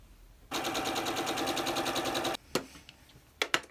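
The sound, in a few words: sewing machine sewing a triangle onto a diamond block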